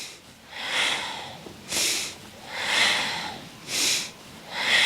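Slow, deep yoga breaths taken while stretching in bed, alternating long inhales and exhales in a steady, close, unhurried rhythm of roughly four cycles, with no talking.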